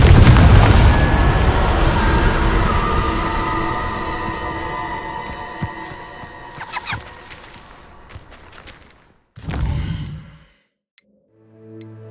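A loud booming blast from the Confringo spell in a Harry Potter video game, decaying into a long rumbling tail, followed by a short second burst and faint tones.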